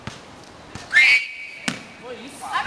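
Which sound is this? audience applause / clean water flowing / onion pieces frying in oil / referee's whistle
referee's whistle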